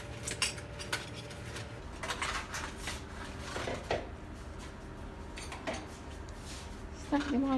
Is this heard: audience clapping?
no